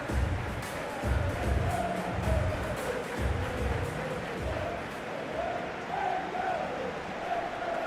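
A large stadium crowd in the football video game Football Life 26, at a simulated World Cup 2026 match, gives a continuous, moderately loud roar and murmur with swelling waves of cheering.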